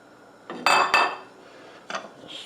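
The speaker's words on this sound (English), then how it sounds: "we'll add in, this is 3 cups of basmati rice" Three cups of basmati rice poured into a metal cooking pot, a short rattling rush of grains with a clink of metal, then a second brief pour, close and fairly loud.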